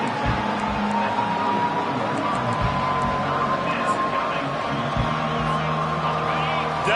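A football stadium crowd roars behind the defense on third down, a steady loud wash of cheering that continues throughout under the voice of a commentator.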